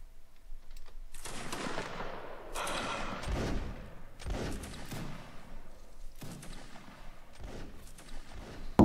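Ragged musket volleys crack out in a Napoleonic Wars line-battle game, several staggered bursts of overlapping shots with rolling echoes and thuds across the whole stretch, fairly loud, with no talk.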